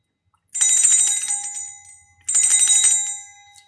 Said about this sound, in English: Would you agree this is a bell?